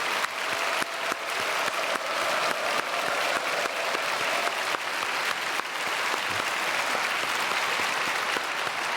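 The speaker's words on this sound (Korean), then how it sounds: "우리 박수로 크게 감사드리겠습니다." A church congregation at a Sunday worship service applauds in sustained, dense clapping that carries evenly for several seconds across a large hall, with no voices.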